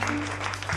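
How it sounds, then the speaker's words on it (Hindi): Classroom applause for a student named Nancy, a short burst of clapping from a group of students with a steady low hum underneath. "सभी लोग नैंसी के लिए तालियां बजाएंगे।"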